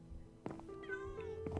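A cartoonish cat meows in Paperhats 3, a short rising cry with a bright harmonic tone, sounding close over a soft game background.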